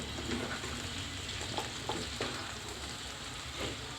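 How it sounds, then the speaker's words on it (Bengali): Potato pieces fry in oil as they are gently stirred, a soft, steady sizzle with a few scraping strokes from the utensil, heard close up with no talk. "আমি আলতোভাবে এগুলো নাড়ে চেড়ে কিছুক্ষণ ভেজে নিচ্ছি"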